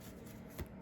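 A small deck of cards being shuffled by hand during a card spread, a soft continuous riffling rustle close by with one brief louder flutter near the end.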